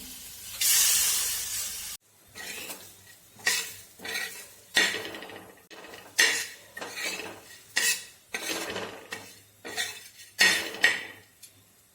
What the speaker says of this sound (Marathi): ही डाळ आता मी पिवळसर होईपर्यंत भाजून घेणार आहे